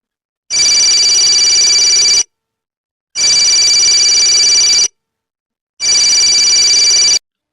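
A telephone rings three times, each ring a long, loud, steady trill separated by brief silent pauses.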